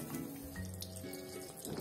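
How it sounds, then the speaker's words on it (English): Water poured from a glass into a grinder jar holding soaked ragi (finger millet) makes a brief, soft splashing trickle, close and quiet, lasting under two seconds with no voices. "Add in 1/2 glass of water"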